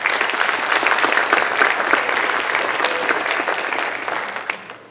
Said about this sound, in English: Can we get a round of applause for all those people?